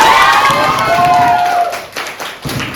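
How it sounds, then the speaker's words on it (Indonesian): A classroom of children clapping and cheering, a loud continuous wash of claps and shouting voices with a bright cry rising above at the start, then thinning slightly toward the end. "Tepuk tangan dong buat semua"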